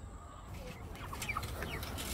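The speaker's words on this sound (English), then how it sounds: "But this here is the chickens." Chickens in a chicken tractor on a small backyard farm cluck and call in short scattered bursts over a steady outdoor background, moderately close and fairly faint, with no talking.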